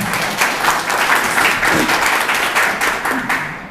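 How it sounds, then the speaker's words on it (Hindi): Audience applause fills the hall at an award event for wrestlers, a dense, sustained clapping from many hands at moderate distance, steady for the whole stretch with slight swells. "मुझे लगा कि आप लोग इस बात पर तालियां बजाएंगे"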